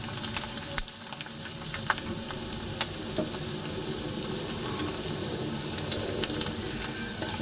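Onion frying gently in oil for stuffed brinjal, a soft, steady sizzle with a few sharp ticks and clinks, fairly quiet and close, no voices.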